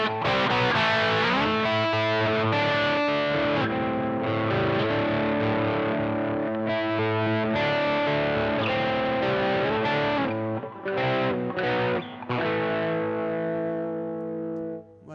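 Electric guitar played through a Blackstar HT Studio 20 tube amp head, loud and continuous distorted chords and notes with heavy drive and effects, close and alone with no talking.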